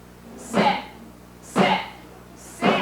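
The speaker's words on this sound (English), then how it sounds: "She's clearing her throat." A woman clears her throat three times in a row, harsh raspy bursts about a second apart, close and fairly loud.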